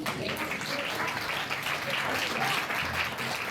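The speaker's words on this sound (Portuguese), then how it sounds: "Pode aplaudir o Senhor por isso?" A church congregation breaks into sustained applause during a Sunday service, a broad even patter of many hands clapping at moderate level throughout.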